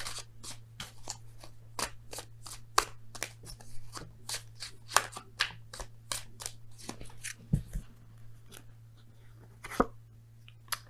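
Oracle cards being shuffled for a tarot reading. A steady run of crisp, papery riffs and snaps repeats in an irregular rhythm, close and fairly quiet, over a low constant hum, with no talk.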